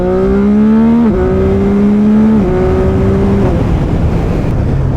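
A CFMoto 675 SR-R motorcycle pulls away hard from the lights, its engine rising steeply in pitch through several quick gear changes, loud and close.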